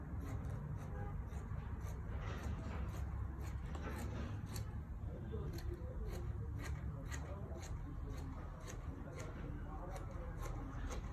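Scissors snip through fabric while cutting out the front panel of a six-piece skirt, a run of quick, faint, evenly spaced cuts over a steady low room hum.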